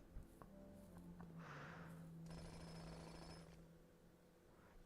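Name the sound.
jackhammer sound from a video game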